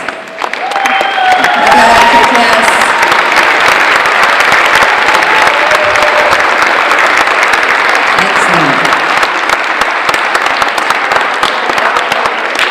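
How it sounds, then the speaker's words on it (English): Sustained, loud applause from an audience at a senior awards ceremony, dense clapping filling the hall with a few scattered cheers and voices underneath. "we're going to give you a really big applause"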